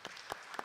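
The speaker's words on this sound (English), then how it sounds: "so just one big round of applause for presenters" Brief burst of audience applause at a health summit in Tanzania, a few claps rising and fading within under a second, fairly faint and distant in a conference hall.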